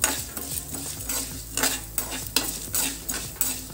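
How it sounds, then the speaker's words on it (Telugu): Flax seeds, urad dal and chana dal dry roasting in a pan, with repeated scraping stirs and a faint sizzle at a steady rhythm, close up and with no talking. "ఇవి రెండు బాగా దోరగా వేయించుకోవాలండి. మంచి కలర్ వచ్చే వరకు వేయించుకొని"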